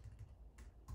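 Quick bursts of typing on a computer keyboard, a few faint close clicks in an irregular rhythm with no voices.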